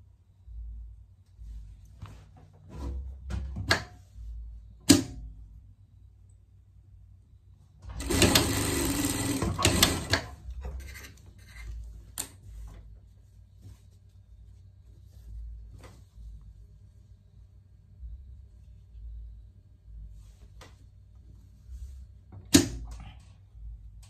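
A sewing machine stitches the shoulders of a pet parka in one loud, rapid burst of a couple of seconds, with scattered clicks and fabric handling before and after.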